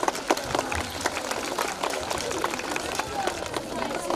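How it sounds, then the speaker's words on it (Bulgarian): Audience clapping at a first-grade school event fills the room, a continuous fairly quiet patter of many hands heard at moderate distance with a few louder claps poking through. "Аплодисменти."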